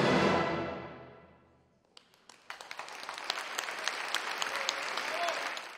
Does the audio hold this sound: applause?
yes